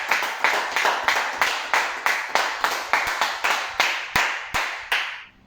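A church congregation claps in steady rhythm to acclaim God during a teaching worship service. Around a dozen loud, even hand claps keep the beat, then stop and fade.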